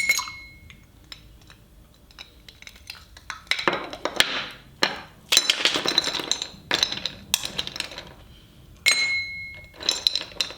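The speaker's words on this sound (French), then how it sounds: "Pour faire le café froid classique, on prend des glaçons" Ice cubes dropped into a glass of almond milk for classic Italian iced coffee, giving a handful of sharp bright clinks and rattles in separate bursts, close and fairly loud, with no talking.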